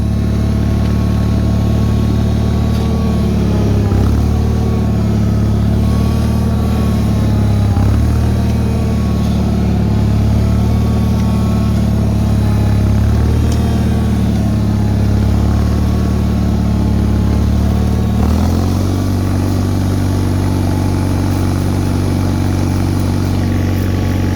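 A Bolens HT-23 garden tractor engine runs steadily below full throttle, a loud, close, continuous low drone with a brief dip and shift in pitch near the end, out in snow.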